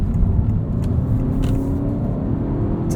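A 2022 Honda Civic manual hatchback engine revs and pulls under acceleration, a steady low rumble heard from inside the cabin, with no speech.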